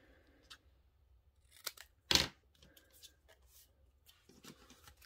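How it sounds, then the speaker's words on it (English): Scissors make a few quiet snips, one louder sharp cut in the middle, as a stamped paper die cut is trimmed for a card, in a quiet room. "just use your scissors to trim that ever so slightly"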